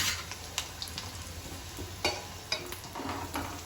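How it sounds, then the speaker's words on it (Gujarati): Muthiya dumplings for undhiyu fry in hot oil over a medium flame, giving a steady low sizzle throughout with a few soft stirring clicks and scrapes, close and fairly quiet, with no talking. "હવે આપણે મુઠિયાને તળવા નાખીશું."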